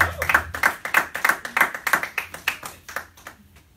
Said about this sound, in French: Pousse des cris de joie,